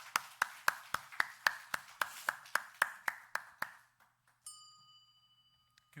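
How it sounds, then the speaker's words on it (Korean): A church congregation claps in steady unison, about a dozen sharp, evenly spaced claps that stop abruptly, followed by a sustained ringing chime tone in a quiet room. "하나님께 감사와 영광의 박수를 드립니다."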